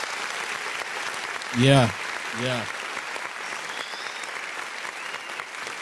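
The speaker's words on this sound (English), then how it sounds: "see how I wait till the claps die down" Dense, steady applause from a large audience fills the whole stretch as a continuous wash of clapping, with a voice briefly speaking over it partway through.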